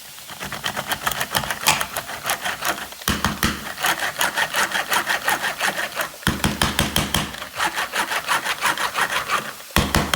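Garlic chopped in a lidded manual pull chopper with a spinning cutting wheel: fast, continuous rattling whir in repeated bursts of about three seconds each, close and fairly loud, with brief pauses between pulls.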